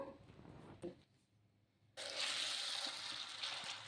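Water pours from a container over two cups of puffed rice in a bowl to soak, a faint rustle first, then a brief hush, then a louder steady gush and splash of running water.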